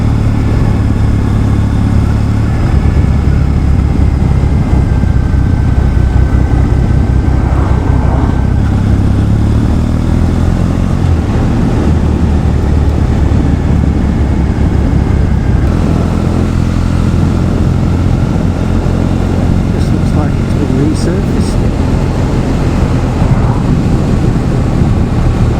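Triumph Bonneville motorcycle riding along a road toward the Lakes, with a steady, loud engine drone and low rumble throughout, shifting in pitch as the bike changes speed.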